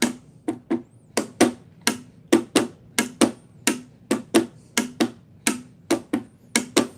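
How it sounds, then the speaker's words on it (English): Percussive slaps and brighter strummed strikes on a U-bass alternate in a steady groove, slaps as bass drum and outward strums as snare, crisp and close with no voices. "all I'm doing there is slapping for a bass drum sound and kind of strumming outwards for a snare drum sound"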